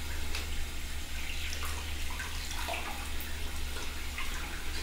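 Hands rinsed under a running tap in a care setting, a steady close hiss of flowing water filling the whole stretch with small splashy variations and no talk.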